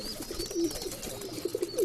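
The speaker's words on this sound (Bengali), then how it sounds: "এগুলো হচ্ছে ঝর্ণা শার্টিন কবুতর" Satin pigeons in a loft give soft, low coos in short repeated bursts, close by and fairly quiet.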